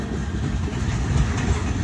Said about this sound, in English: Let me walk over here and catch them rolling down the track as far as I can get them anyway.